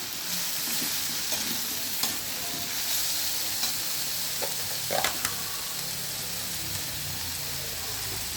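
Ginger paste sautéed with mixed vegetables in a pan, giving a constant close sizzle broken by occasional utensil taps and scrapes.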